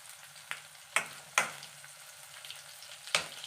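Cluster bean curry fries gently on low heat while being stirred, giving a faint crackle with a handful of sharp scraping strokes, about four distinct ones, spaced irregularly.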